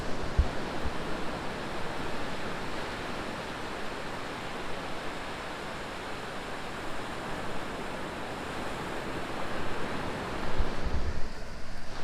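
Ocean waves on a remote beach facing Nusa Penida, a broad continuous roar of surf heard from nearby, fairly steady with a slight swell near the end and no one talking.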